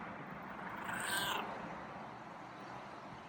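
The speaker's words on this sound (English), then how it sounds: "Oh, there's that meow." A single drawn-out meow from a feral cat rises and fades over about a second, fairly clear against a quiet, slightly noisy background.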